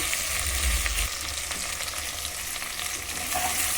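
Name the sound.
vegetables frying in a pan for vegetable kichidi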